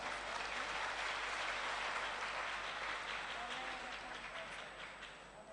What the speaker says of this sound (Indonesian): Tepuk tangan untuk Bu Rara ini.